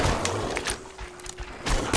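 Gunfire in the game Metro Exodus, several sharp shots spaced irregularly over a noisy ambient background, moderately loud and close.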